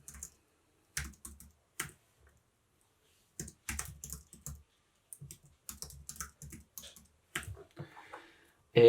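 Password keys tapped on a computer keyboard while setting up a WordPress site user: scattered bursts of clicky keystrokes with short pauses between them, close and fairly quiet, no voices.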